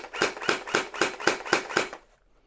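Gel Zone Kratos gel blaster firing a string of six evenly spaced semi-auto shots, each a sharp close pop about a quarter second apart, followed by silence.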